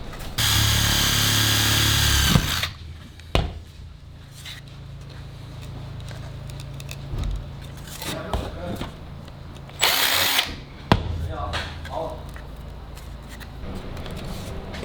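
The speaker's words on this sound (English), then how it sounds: "So I'll drill the holes so it's nice and uniform" A power drill whirs loudly in two bursts as it bores holes in leather, with quieter handling clatter and tool knocks between them.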